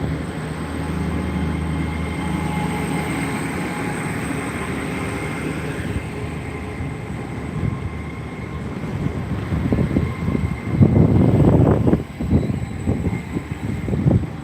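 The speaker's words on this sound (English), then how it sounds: "Not sure if I'm hearing excess power from that train." A train rumbles with a steady low engine drone, growing louder and rougher toward the end as it pulls away from a station in Gloucester; no voices.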